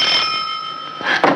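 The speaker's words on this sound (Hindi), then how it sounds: "फोन की घंटी टनटनाई" A bell rings with steady sustained tones, a bright metallic ringing that holds and then swells again near the end.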